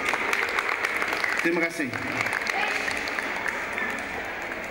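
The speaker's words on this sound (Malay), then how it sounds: "Sila beri tepukan kepada pelanggan kita semua." Steady crowd applause at a jewellery company award ceremony, moderately loud and continuous, with a brief spoken thanks partway through.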